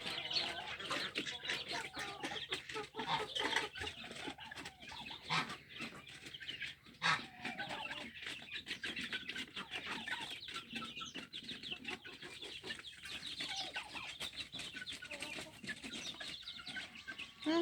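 A flock of chickens with chicks and turkeys cluck and peep continuously at close range, with overlapping calls and small chick cheeps forming a busy, steady farmyard chatter.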